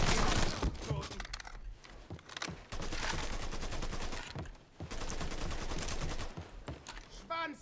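Loud bursts of rapid gunfire in the Mafia III video game come in several long volleys separated by brief lulls, with scattered single shots near the end.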